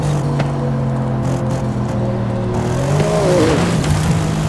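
A racing car engine in Forza Horizon 5 drones steadily with a low, even tone, then its pitch bends and climbs as the car revs up toward the end. It is close and continuous, with no talk.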